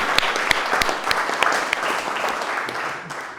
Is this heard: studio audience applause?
yes